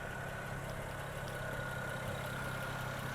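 A 2007 BMW 335i Hardtop Cabriolet engine idles steadily at close range, recorded near the belts, a constant low rumble with a faint whine and no variation.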